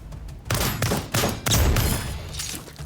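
Loud, close gunfire from a weapon in the video game Lost Skies, fired in three rapid bursts, each a dense run of shots cut by short pauses.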